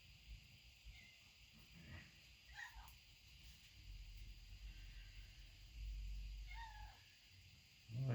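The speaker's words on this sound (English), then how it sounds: "I don't know if you can hear the kitten." Several faint, high kitten meows come at irregular intervals over a low steady hum in an engine workshop where a GM 4.3L V6 is being built.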